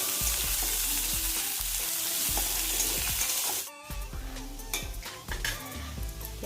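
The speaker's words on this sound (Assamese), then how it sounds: "এতিয়া মই ইয়াতে পিঁয়াজখিনি দি লৈছোঁ, অকণমান ভাজি ল'ম ৰঙচুৱা হোৱালৈকে" Onions fry in hot oil with a loud, dense sizzle for several seconds, then the sizzle drops away, leaving clinks and clatter of a utensil against the pan nearby.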